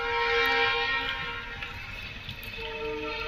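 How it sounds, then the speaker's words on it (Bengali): An empty train rolls slowly into the Tikiapara car shed for repairs, giving a steady rumbling drone with sustained tonal whine and faint clanks throughout, fairly loud and unbroken. "এই ট্রেনটাও ঢুকে যাচ্ছে আস্তে আস্তে"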